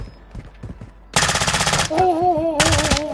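Rapid machine-gun fire in a video game, loud close bursts of dense rattling shots with a short pause between them and a tonal game effect ringing underneath.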